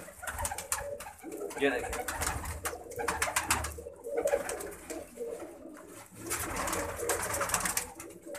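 Pigeons coo repeatedly among rustling and scattered bird sounds, with someone briefly speaking over them.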